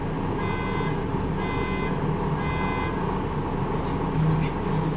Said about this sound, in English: Sorry, that was a car alarm.